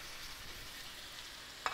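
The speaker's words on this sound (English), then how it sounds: "Nice sizzle." A pork chop sizzles steadily in a hot pan with a constant crackling hiss, ending in a single sharp knock.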